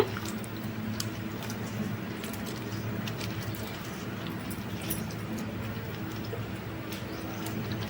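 Pieces of raw plantain are swished and rubbed by hand in a bowl of salt water, making continuous wet squishing and light dripping sounds up close, with no talk.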